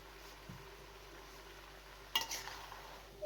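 Boiled macaroni and mince are gently stirred together in a pan, faint quiet scraping and a soft sizzle, with a brief louder clatter of spoon against pan near the end.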